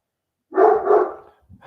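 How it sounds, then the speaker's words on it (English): Dogs bark close by, one loud double bark followed by a quieter yip trailing off, heard indoors with no talk over it. "My dogs are barking."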